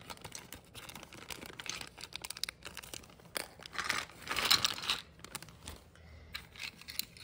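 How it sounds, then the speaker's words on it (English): A plastic bag holding Gabby's Dollhouse fairy garden toys is opened, giving irregular crinkling, rustling and tearing bursts, close and fairly quiet, with no speech. "Okay, let's open this bag."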